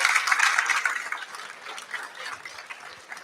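A crowd applauds the top three finishers at an elite race field introduction, starting as a loud, dense clatter of clapping and thinning out toward the end.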